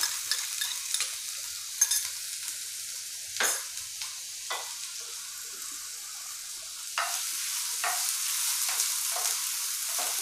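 Onions frying in two spoons of oil in a pan on a gas stove, a soft, steady sizzle with occasional spatula scrapes and taps, close but fairly quiet.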